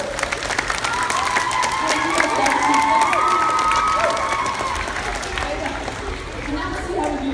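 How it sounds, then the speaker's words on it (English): A crowd at a skateboard science demonstration claps and cheers, with whoops and children's shouts mixed into sustained applause and chatter, lively and continuous before easing off. "Let's give that amazing round of applause."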